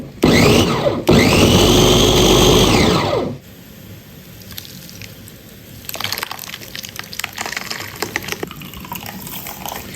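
A kitchen blender whirs loudly as it purees spinach with water, a roaring motor run of about three seconds that cuts off, followed by quieter clinks and handling sounds.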